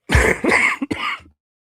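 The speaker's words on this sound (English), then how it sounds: "Got a cough again." A close, harsh cough followed by a short throat clearing, loud and dry, with a brief pause between bursts.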